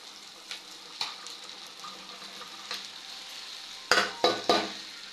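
Cumin seeds and okra sizzle steadily while frying in a pan, a soft continuous crackle punctuated by scattered spatters and three sharp clinks of a utensil stirring against the pan near the end.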